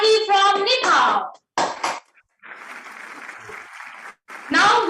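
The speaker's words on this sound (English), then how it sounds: "Please give another round of applause to Miss Namuna Sahi from Nepal." Audience applause at a peace festival following a testimony, a broad steady patch of clapping of moderate level lasting a couple of seconds, framed by speech before and after.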